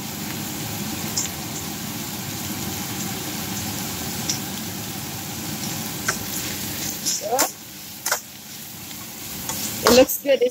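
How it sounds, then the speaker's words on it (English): Onion and carrots stir-frying in a very hot pan, with a steady broadband sizzle and scraping of the spatula that grows sharper and louder toward the end; voices talk faintly over it at times. "really hot, so we're gonna put our onion and carrots"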